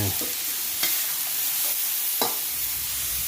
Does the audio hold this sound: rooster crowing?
no